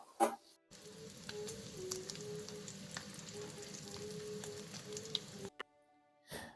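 Thick-sliced bacon frying in a pan, a steady close hiss and crackle with small pops running for several seconds, then cutting off abruptly.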